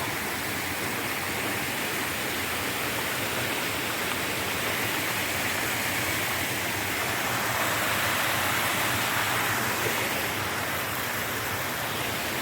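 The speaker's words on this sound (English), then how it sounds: "I get greeted with a beautiful little waterfall this morning." A small waterfall beside the Appalachian Trail near Winding Stair Gap pours in a steady, close, full-bodied rush of falling water that holds unbroken throughout, with no voices over it.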